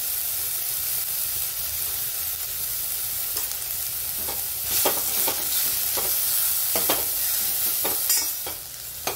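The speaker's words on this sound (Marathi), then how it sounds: "आता आपण याला चांगलं मिरच्याला तळून घेऊ तेलामध्ये" Chillies fry in hot oil with turmeric for Maharashtrian buttermilk kadhi, a loud steady sizzle with bursts of spattering and stirring scrapes, no voices.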